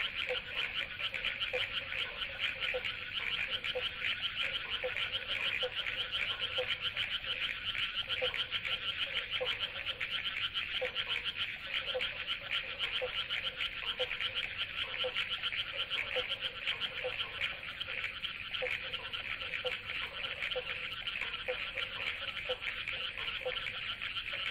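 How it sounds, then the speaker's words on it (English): Dense chorus of tropical frogs calling at dusk in forest, a steady loud wall of high trilling with repeated lower croaks pulsing through, continuous throughout with no talk. "Frogs will start up calling."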